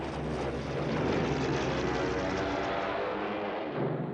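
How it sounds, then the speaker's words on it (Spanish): A Stuka dive bomber from the Second World War flying, a broad, steady propeller-engine roar at moderate distance that holds for several seconds and thins slightly toward the end, with no talk. "Los Stukas son bombarderos en picado equipados con sirenas"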